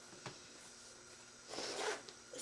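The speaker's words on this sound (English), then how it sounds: "Zipper in the back." Zipper on the back of a new bag being worked during an unboxing, a quick tick followed by one longer rasping pull, near and quiet.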